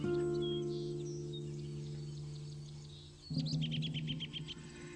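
Small birds chirp among rose bushes, a steady low hum and scattered high tweets giving way to a louder burst of rapid chirping near the end, close and clear.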